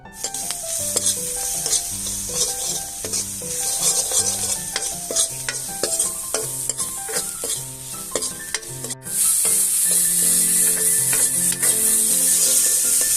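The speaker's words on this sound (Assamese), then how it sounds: "পিঁয়াজ আৰু জলকীয়াখিনি ভজা হৈ গ'ল" Onions and chillies fry in a pan for an Assamese pork dish, with a loud, constant sizzle under frequent scraping, clattering stirs, and the frying surges even louder in the final seconds.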